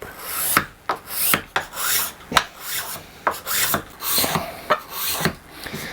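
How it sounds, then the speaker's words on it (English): A hand scraper smooths the wooden neck swoop of a Ceres Theta guitar build, removing file marks with a series of sharp, rasping strokes, close and fairly loud, with brief pauses between passes. "We'll take a scraper now, remove some of this thickness, and smooth out our swoop."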